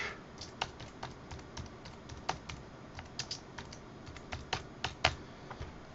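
Quick bursts of keystrokes on a computer keyboard while entering a year and a composer's name, uneven clusters of crisp, soft, close taps with short pauses, no voice.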